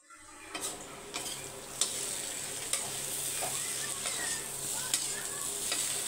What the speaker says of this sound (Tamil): ஒரு 5 நிமிஷம் மட்டும் மூடி போடாமல் அப்படியே ரோஸ்ட் பண்ணி எடுத்துக்கோங்க